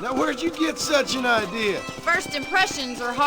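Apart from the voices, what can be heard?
None of the usual background noises is heard.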